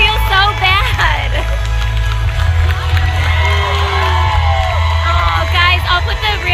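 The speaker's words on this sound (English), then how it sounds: "Everyone's standing up and clapping." A lively crowd at a Cricut Maker event cheers and whoops, with clapping and shouting voices filling the room loudly and continuously throughout.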